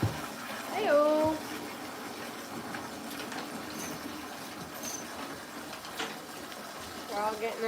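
Fresh water runs and splashes steadily, like a tub or basin filling, continuous and fairly close throughout, with brief voices and clatter near the start and end.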